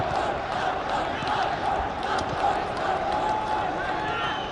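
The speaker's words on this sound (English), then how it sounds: "cheering, waving the flag." Football supporters at a Bhutan vs Afghanistan SAFF Championship 2011 match keep up a steady, distant crowd roar of cheering and chanting throughout.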